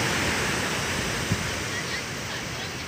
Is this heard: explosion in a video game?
no